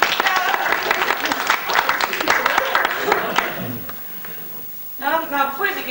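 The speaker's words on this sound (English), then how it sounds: "Let's hear some applause." An audience at a school drama preview night breaks into dense applause, many hands clapping loudly for about three seconds before it fades, followed by a voice speaking.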